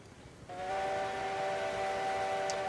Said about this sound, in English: Yeah, I can hear your whistles.